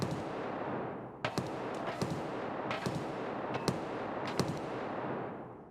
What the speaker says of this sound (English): More shots, attracting attention.